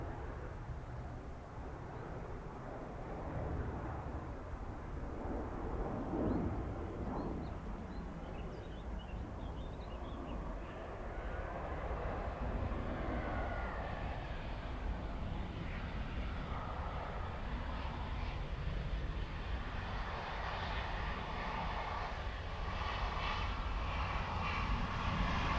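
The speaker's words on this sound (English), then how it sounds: "the tag Angola Airlines A220 that's on delivery flight, powered up now" An Angola Airlines Airbus A220 on its delivery flight powers up its jet engines on the West Apron at Dublin Airport, a faint, distant roar that rises gradually and holds steady without talk.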